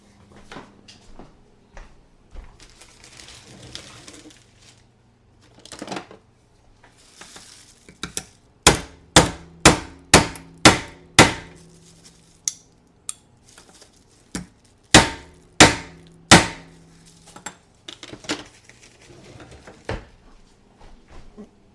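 Sharp, loud hammer blows on a knife part land in two quick rapid-fire runs, with quieter scattered knocks and clatter between them. No voices.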